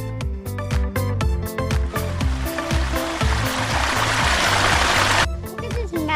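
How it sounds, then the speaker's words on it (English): A small waterfall stream rushes with a steady broadband wash that swells loudest in the middle, heard nearby beneath rhythmic background music that plays throughout. "I found a mini bonus waterfall."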